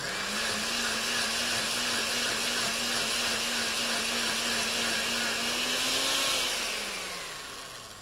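A kitchen blender runs continuously, pureeing soup solids with a little added liquid, its motor whirring steadily and loud before winding down near the end.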